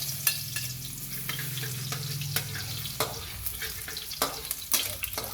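Garlic sautéing in a pan for Ilocano-style monggo with pork hock, a soft continuous sizzle with scattered stirring clatters and scrapes, nearby and moderately quiet, a low hum underneath.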